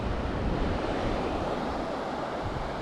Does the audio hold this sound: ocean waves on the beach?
yes